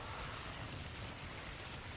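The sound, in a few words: rain in the video game Warframe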